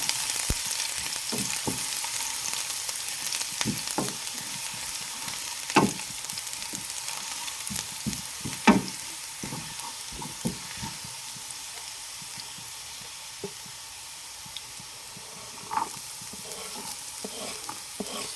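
Garlic sautéing in a pan with a steady sizzle and hiss, broken by repeated sharp clinks and scrapes of stirring at an irregular pace, fairly close and alone with no talk.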